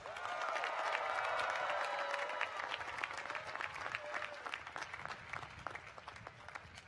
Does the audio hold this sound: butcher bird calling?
no